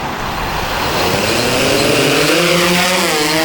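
A SwellPro Splash Drone 3 waterproof drone throttles up for lift-off outdoors by the ocean, its propeller whine rising and growing louder as the motors spin up.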